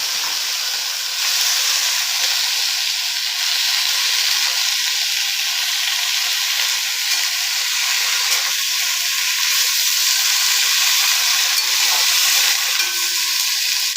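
Cut pumpkin and potato sizzle in hot oil with fried onion in a pan, a steady loud frying hiss that continues throughout with no talking.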